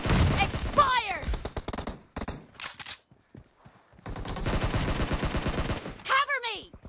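Rapid gunfire bursts in the mobile battle game PUBG Mobile team deathmatch at a warehouse map, dense automatic fire in two loud stretches with a quieter gap, mixed with in-game voice announcements.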